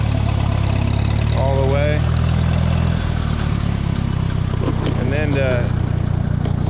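A Minneapolis Moline tractor engine drones steadily and loudly at low pitch, rising briefly in RPM, while someone talks over it.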